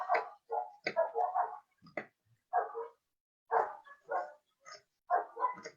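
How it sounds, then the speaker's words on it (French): A neighbour's dogs bark in a series of sharp, irregular bursts with short pauses between them. The barking is moderately loud and is not masked by other sound. "quand c'est comme ça, ses chiens ils déchaînent."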